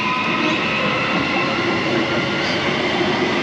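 A Perth suburban passenger train bound for Claremont rumbles past near Subiaco, a loud, steady roar of wheels and motors filling the whole stretch with continuous rail noise and no pauses.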